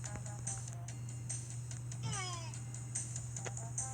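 A cat meows clearly over a steady low hum, with a drawn-out gliding call in the middle and no talk.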